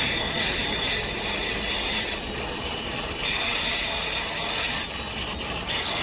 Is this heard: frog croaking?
no